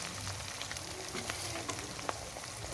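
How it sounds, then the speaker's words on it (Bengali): Garlic, ginger and cumin pastes go into fried onion in a pan for an egg curry and give off a dense, steady, close sizzle with faint crackles, heard alone. "তো পেঁয়াজটা আমার ভাজা হয়েই গেছে। এবার আমি সমস্ত মশলাগুলো এর মধ্যে দিয়ে দেব।"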